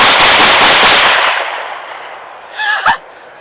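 Glock 19 pistol fired in a rapid burst outdoors, loud sharp reports running together into a dense roar for over a second, then fading, followed by a couple of softer clicks and a short rattle near the end.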